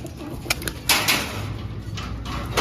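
Young racing pigeons cooing softly while entering a loft, with several sharp flutters and bumps from wings and the trap door rising over a low background hum.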